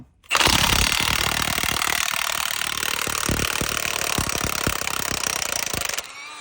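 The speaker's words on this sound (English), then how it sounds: "Now also we have our impact 1/2 inch. We are doing a 1 1/8 socket. Blast this." A 1/2 inch impact wrench with a 1 1/8 inch socket hammers at a brake caliper bolt on a 2001 International truck, a loud continuous rattling burst of about six seconds that stops abruptly.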